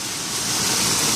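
Hailstones pelting down in a hailstorm, a dense, steady hiss and patter of impacts that swells slightly louder through a brief, continuous burst with no voices.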